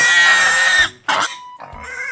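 A pig squeals and grunts loudly up close in a couple of harsh bursts separated by a brief pause, with no voices.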